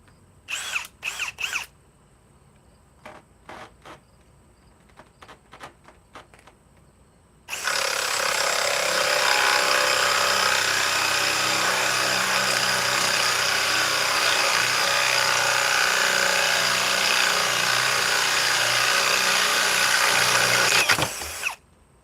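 After a few sharp clicks, a battery-powered tool running on an Edge battery in high gear starts and whirs loudly and steadily for about fourteen seconds before stopping.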